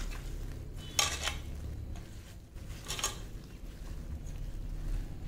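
Soybean biryani ingredients being mixed in a bowl, faint stirring with a couple of sharper clinks of utensil against the bowl.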